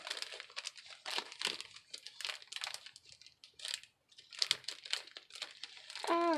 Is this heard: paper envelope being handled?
yes